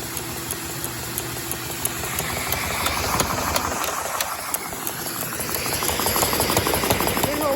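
A Lego model of a Detroit Diesel engine runs with a steady mechanical whir and rapid plastic clicking, continuous and close, with a high tone above it and slight changes in pace.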